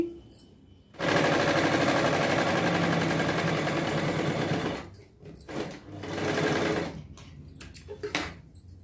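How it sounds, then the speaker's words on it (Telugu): A sewing machine stitches lehenga lining cloth in a loud, rapid mechanical rattle, running steadily for several seconds, pausing, then starting again in shorter bursts. "పైన ఇక్కడ స్టిచ్ వేసేయండి నీట్గా వచ్చేస్తుందండి అప్పుడు ఒక కుట్టు వేసేయండి"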